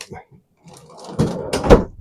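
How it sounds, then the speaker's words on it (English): A kitchen drawer is pulled open with a sliding rumble and a couple of knocks and clatters as it runs out, close by, with a brief voice at the start. "Let me pull my drawer out."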